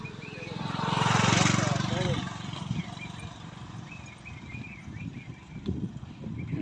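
A motorcycle engine swells as it passes close by on a rural village road, peaking and fading within a couple of seconds, followed by birdsong and someone talking over the quiet outdoor background.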